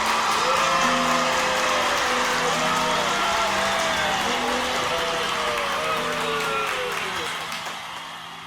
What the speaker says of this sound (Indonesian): terdengar gemuruh tepukan tangan dan teriakan-teriakan semangat rakyat Persia di bangsal Apadana Persepolis